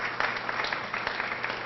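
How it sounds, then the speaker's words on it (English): A crowd at a ribbon-cutting ceremony for a rapid bus transit line claps in a brief, even burst of applause, the dense patter steady from start to finish. "let's give him a round of applause for his leadership"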